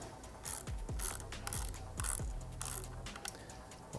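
A ratchet tightens a license plate bracket on a 2021 or later Yamaha MT-09 motorcycle, fitted with a low-mount fender eliminator. It makes close, rapid bursts of clicking pawl strokes in a quick rhythm for about four seconds.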